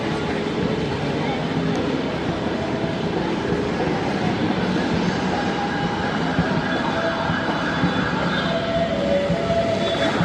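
Steady rumbling roar at a London Underground station entrance, dense and continuous like passing trains and city traffic mixed together, fairly loud throughout with no clear talk standing out.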